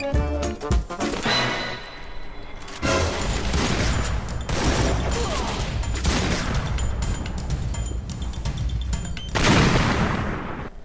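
Explosions and gunfire in a video game firefight, a long dense barrage of loud booms and crackling blasts with a final heavy burst near the end, no talk.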